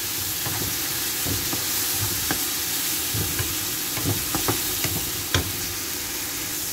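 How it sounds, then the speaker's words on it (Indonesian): Spices sautéing in a pan for a simple tuna (ikan tongkol) dish make a loud, continuous close-up sizzle, with scattered crackles and light stirring taps. "Tumis sampai harum"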